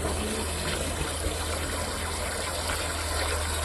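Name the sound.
water poured into pipe to flush snake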